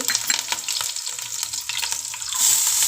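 Green chillies crackling in hot oil in a pan while Maggi noodles are being prepared, a close, busy sizzle with scattered pops and stirring, swelling into a louder hiss near the end, no voices.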